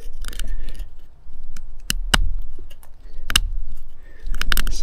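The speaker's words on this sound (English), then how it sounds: "So this is really pretty hard wood, and we see it can do nice shavings." A fixed-blade knife carves shavings from very hard, dead wood, giving several sharp scraping cuts in bursts over a low steady background, close and moderately loud.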